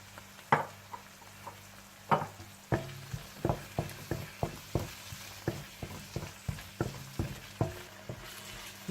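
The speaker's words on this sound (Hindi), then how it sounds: "जब अच्छा सा मसाला तैयार हो जाए तो आप इसमें दही डालकर मिला लें" Masala and yogurt stirred in a hot karahi for masala mutton chops, giving a steady sizzle of frying broken by repeated scraping strokes of a spoon at a regular rhythm, close and fairly loud.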